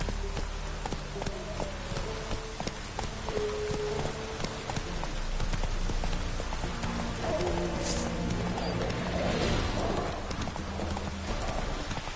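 The horse Roach gallops in The Witcher 3, with a steady, loud clip-clop of hooves running through the whole stretch and a brief whinny-like cry partway through.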